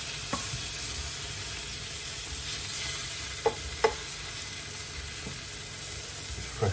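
Tomatoes fry in a pan with a steady, bright sizzle throughout, broken by a few sharp clinks and scrapes as they are stirred and turned.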